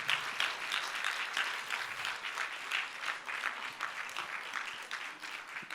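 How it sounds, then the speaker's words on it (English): An audience applauds children who have just danced at a community celebration, a steady, moderately distant patter of many hands clapping without pause. "Give them a round of applause"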